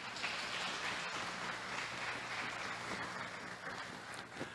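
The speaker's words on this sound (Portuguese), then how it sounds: "Dá uma salva de palmas para Ele." A church congregation applauds together in a dense, even wash of clapping that holds steadily throughout, heard from a little distance and fairly quiet.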